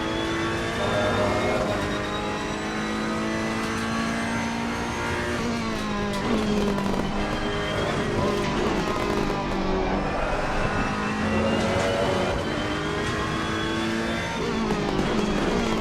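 Engine of a Ferrari 488 GT3 Evo race car at Imola in Assetto Corsa Competizione: a loud, steady, close engine note rising and falling through the gears, with no break across the whole stretch.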